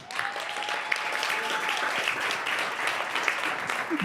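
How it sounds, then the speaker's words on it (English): Steady applause from a crowd, dense clapping that holds evenly for several seconds, with a faint voice briefly audible underneath. "So give these boys a big round of applause."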